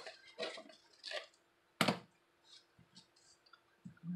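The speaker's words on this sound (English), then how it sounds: "So I'm gonna cut off some of this." Dried purple onion skins being snipped for a junk journal: a few sharp, close clicks and crisp crinkles spaced irregularly, with one louder snip near the middle and quiet pauses between.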